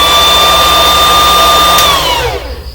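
A computer power supply switched on to its 12-volt standby during a power supply test, a loud steady whir with clear tones that holds, then winds down in pitch and fades near the end.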